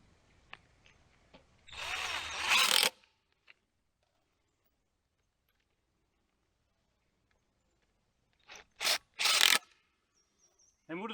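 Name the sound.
power drill driving fasteners in garden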